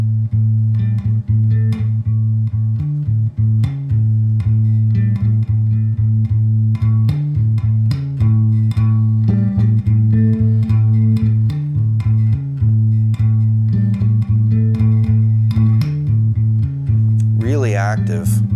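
A bass guitar plays an intro at a slow tempo. Loud, close, repeated low plucked notes pulse in a steady driving rhythm with short gaps between phrases, and a brief higher slide comes near the end.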